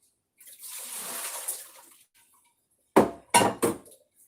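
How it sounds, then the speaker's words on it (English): A metal pan of water, used earlier while baking bread, is taken out of a home oven: a soft airy whoosh, a pause, then three sharp close metallic clanks in quick succession, with no talk. "I'm going to remove this pan of water"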